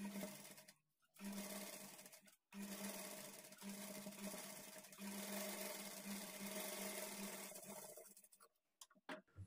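A sewing machine runs a steady, rapid stitch along a high-neck blouse waistband, loud and close, stopping briefly twice before trailing off at the end.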